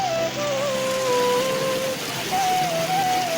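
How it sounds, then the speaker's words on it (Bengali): Heavy rain pours down in a dense, constant hiss, heard from shelter inside a shop, with a thin wavering tone drifting over the steady downpour. "দর্শক এত পরিমাণ বৃষ্টি"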